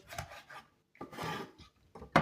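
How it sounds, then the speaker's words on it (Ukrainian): Knife cutting eggplant into small cubes for a salad, a few close, quiet rasping cuts in short irregular bursts with pauses between them. "то я буду різати такими дрібненькими кубічками"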